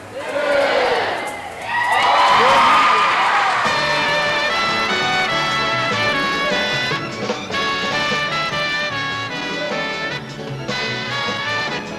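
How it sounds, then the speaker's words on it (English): A crowd cheers and applauds at a charity fundraising event, a loud swell of cheering and clapping up front that gives way to music under continued crowd noise. "Let's have a nice round of applause for Cy Burek, ladies and gentlemen"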